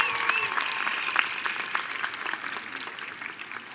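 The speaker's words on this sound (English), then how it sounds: "How about another cheer for Nicole and Wayne?" Audience at a new student convocation breaking into cheering and applause, dense clapping that gradually tapers off over a few seconds.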